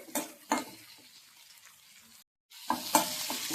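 Vegetables are sautéed and stirred with salt in a pan. Close, soft sizzling comes with scraping spoon strokes, broken by a brief silent gap before the stirring resumes.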